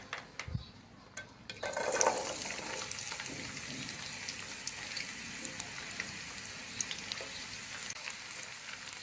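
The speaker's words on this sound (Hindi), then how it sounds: "अब प्याज को अच्छी तरह से ब्राउन कर लेंगे।" Finely chopped onions hit hot oil in a kadai with a sudden burst, then settle into a steady crackling sizzle with occasional pops, moderately close and without talking.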